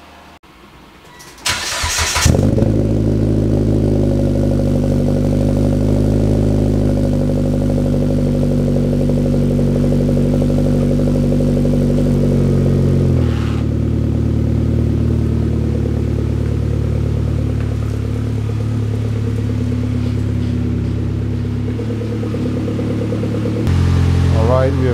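A turbocharged Mitsubishi Lancer fires up from cold with a quick crank, then settles into a loud, steady, droning idle that holds for over twenty seconds, dropping slightly in pitch midway as the revs ease.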